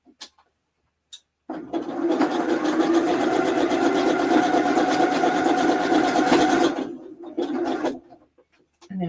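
A sewing machine stitches elastic into a tank top in one sustained run lasting several seconds, close and loud, with brief handling noises and short bursts before and after.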